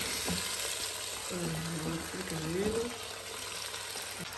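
Carrots sautéing in a pan with meat, onions and spices for a gypsy-style home recipe give a steady, close sizzle with stirring, and a faint tonal whine rises and falls through the middle.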